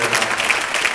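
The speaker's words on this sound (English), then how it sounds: "I think that deserves a round of applause." A brief wash of steady audience applause at a conference panel on social media for social good, dense and even throughout with no voices on top.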